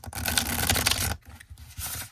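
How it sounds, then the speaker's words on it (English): Large linen-finish tarot cards being bridge-shuffled, giving a dense rapid riffling flutter for about a second, then softer scattered card riffles close up. "I still love the shuffle."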